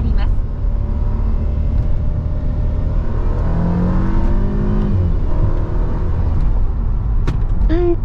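A Mercedes-Benz SLK200 open-top car accelerates, its engine rising in pitch as the throttle is pressed, loud and close throughout, with road and cabin noise underneath.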